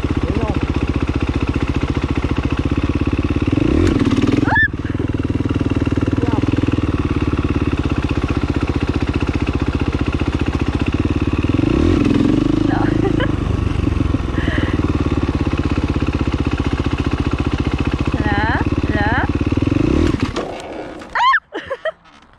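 A motorcycle engine drones steadily during wheelie practice, rising in several revs before cutting out near the end, while people talk over it.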